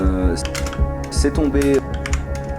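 Computer keyboard keys clatter in quick irregular bursts while a video edit is being cut, close and fairly loud, with someone speaking briefly over the typing.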